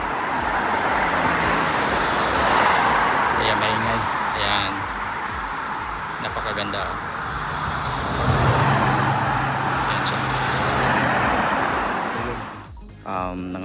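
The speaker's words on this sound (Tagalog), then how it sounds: "Dami lang sasakyan dito kaya maingay." Steady highway traffic near a house patio in autumn gives off a constant roar of passing cars and trucks, heard under someone talking for most of the stretch.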